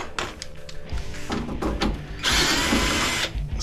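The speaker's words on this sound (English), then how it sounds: "Start taking screws off." Power drill unscrewing screws from a copper bubbler, a few short whirring bursts and rattles followed by a longer, louder spinning run near the end, close up with no talk.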